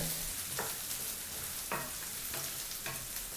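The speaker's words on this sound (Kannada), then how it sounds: "ಈಗ ಇಲ್ಲಿ 3 ನಿಮಿಷಗಳ ಕಾಲ ಹಸಿ ಬಟಾಣಿನ ಚೆನ್ನಾಗಿ ಫ್ರೈ ಮಾಡಾಯಿತು." Raw green peas fry in a pan for a rice dish under a continuous soft sizzle, with about five stirring scrapes at fairly regular intervals and no voices.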